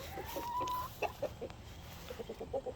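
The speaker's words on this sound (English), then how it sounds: "And these are our chickens." Backyard chickens cluck in short, soft bursts, with a few scattered cackles and a brief higher call, quiet and close by in a calm outdoor setting.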